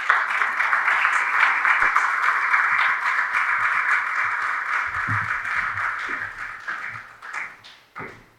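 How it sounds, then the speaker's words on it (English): An audience at a conference keynote claps to welcome a speaker, a dense, loud round of applause that holds steady and then thins out toward the end. "Let's welcome with a huge round of applause, Mr. John Awuah."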